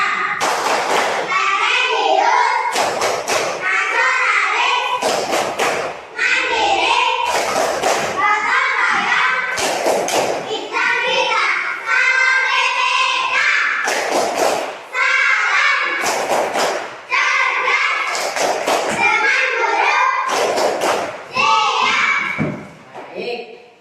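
Schoolchildren in a classroom perform the Tepuk PPK clapping chant in unison, sharp group claps and thumps landing in a steady rhythm between loud chanted lines, close and energetic throughout.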